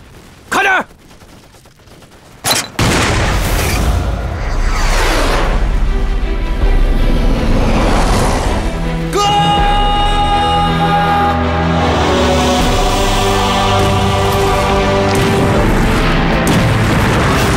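Artillery cannons firing shells in a war film battle scene, a couple of sharp early blasts followed by continuous loud booming, gunfire and explosions mixed with dramatic music and shouting voices.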